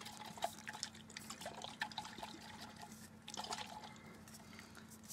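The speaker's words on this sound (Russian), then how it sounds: "Еще я его сейчас встряхну и посмотрим, течет она, вода здесь, отсюда, где крышка, или нет." Warm water sloshing and splashing inside a shaken thermos with its lid closed, a series of irregular liquid swishes and small knocks close by, with no talking.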